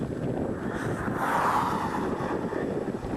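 Strong headwind gusts of about 25 mph buffet the microphone while cycling, producing a continuous loud roar and rumble that swells slightly midway, with no talking.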